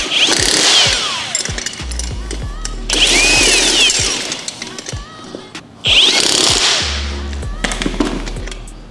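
Bolts tightened with a 17 millimeter socket while assembling a Bells of Steel lat pulldown low row machine: three loud whirring bursts of a power driver, close up, separated by short pauses with small clicks.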